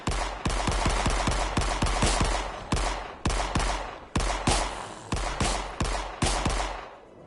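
Rapid automatic pistol fire in Forgive Me Father comes in quick bursts of sharp, punchy shots, each bursting close and loud with short echoing tails, broken by brief pauses, with no voices.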